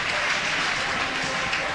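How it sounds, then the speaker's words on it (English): Crowd at a swimming championship heats session raising a broad, steady roar of cheering and shouting that fills the space without a break, loud and continuous for under two seconds. "So we heard some screaming and shouting there in the crowd."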